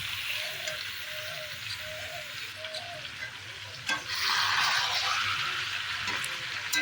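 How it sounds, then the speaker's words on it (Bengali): Chicken pieces with spice masala fry on a low flame in a pan, a steady fine sizzle and crackle with occasional stirring scrapes, louder bursts toward the end. "লো ফ্লেমে গ্যাসটা দিয়ে সুন্দর করে কষিয়ে নেব।"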